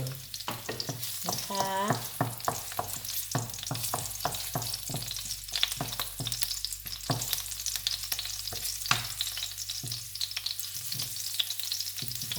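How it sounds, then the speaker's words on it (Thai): Tofu stir-fried with garlic and fermented soybean paste in a pan, with a steady sizzle and crackle of frying. Repeated scraping strokes of a utensil against the pan run throughout at close range, with no talking. "มาค่ะเพื่อนๆเรามาผัดกันเนาะ เต้าเจี้ยวเอ้ยเต้าหู้ผัดเต้าเจี้ยวนี่ใส่กระเทียมเจียวกระเทียมนิดนึงนะเพื่อน ๆกระเทียมนิดนึง"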